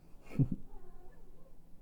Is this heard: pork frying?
no